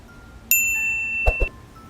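A bright notification bell chime rings once, a clean metallic ding with long ringing overtones, followed by two soft low knocks, alone against a quiet background.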